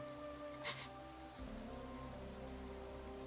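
Steady rain falls during a NIKKE video game cutscene, a dense continuous patter over a low droning musical backdrop, with a brief splash-like burst early on.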